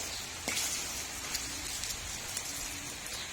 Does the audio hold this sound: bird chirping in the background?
no